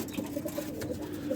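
Pigeons in a loft giving short repeated coos, moderately close and quiet, over a low steady background.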